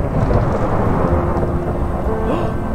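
Thunder set off by lightning TNT in a video game rolls as a loud, continuous low rumble with rain hiss throughout, steady for the whole stretch with no talking.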